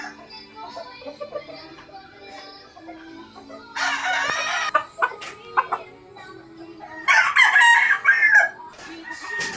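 Fancy white gold broodcock crowing twice in a backyard gamefowl pen, loud and close, over faint background bird calls and low ambient noise.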